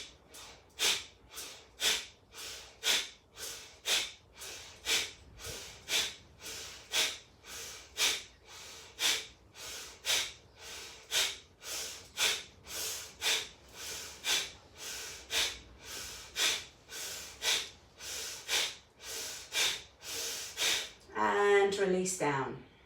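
About thirty forceful exhalations at a quick, even pace of roughly one per second during a hatha yoga breathing exercise, each a close, sharp puff of breath through the nose. The run ends with a brief, louder voiced release.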